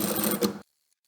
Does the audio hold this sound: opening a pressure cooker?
no